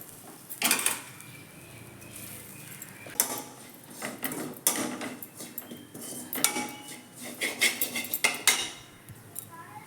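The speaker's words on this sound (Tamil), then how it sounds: "தேங்காய் வந்து அப்படியே லைட்டாக வதக்கிக்கலாம்." Grated coconut is sautéed and stirred in a pan for kozhukattai. Bursts of metal spatula clatter and scraping come close and loud, separated by quieter pauses.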